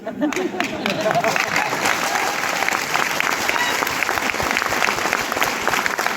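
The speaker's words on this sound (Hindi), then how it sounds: "ताली बजा रहा है।" An audience claps steadily throughout, a dense, loud, continuous wash of applause with crowd noise mixed in.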